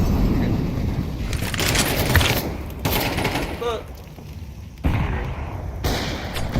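Gunfire in a tactical team shooter, including an Operator sniper rifle shot, comes as loud sharp reports and echoing bursts while players talk over voice chat.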